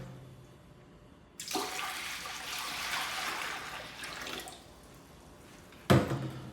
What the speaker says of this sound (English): So first things first, we'll add our water, which is pre-measured out.